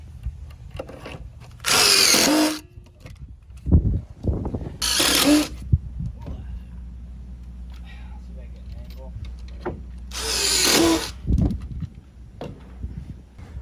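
A power drill whirs in three short, loud bursts driving hidden side-mounted fasteners into a deck frame, with someone talking and knocks and clatter between the runs.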